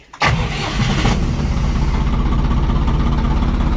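A compact economy-class cab tractor of 24-40 hp cranks and its engine catches within a moment. It settles into a loud, steady, close-up idle.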